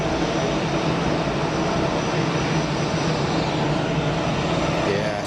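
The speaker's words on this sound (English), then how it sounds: "I think we've got the Emirates triple inbound right now." An Emirates Boeing 777 jet airliner comes in to land at Geneva Airport, a loud, steady, broadband engine roar that holds at the same level throughout.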